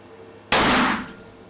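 A single sharp Accuracy International AI-AT rifle shot fired at a 600-yard target, loud and close, with a sudden blast that decays over roughly half a second and leaves a faint outdoor background.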